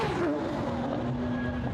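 The engine of a Gulf long-tail McLaren GT1 race car can be heard at a Goodwood event, a steady, distant drone holding a sustained pitch, with faint background noise.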